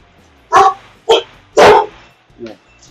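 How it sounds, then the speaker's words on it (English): A dog indoors barks at someone walking down the sidewalk outside, four loud, sharp barks in an uneven burst, close and alone, with the last bark softer. "my dog's going crazy at somebody walking down the sidewalk"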